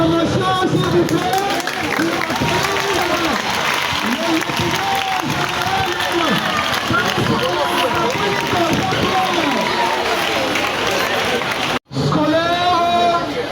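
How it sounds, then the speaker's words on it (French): A large crowd roars and applauds without pause at a military and school ceremony, a loud, dense wall of cheering and clapping with voices mixed in and a brief drop near the end. "Vos acclamations, s'il vous plaît."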